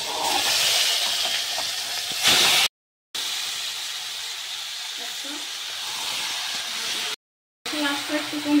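Marinated mutton spices sizzling and hissing steadily in a hot pan as it is stirred, a loud continuous fry broken by two brief gaps.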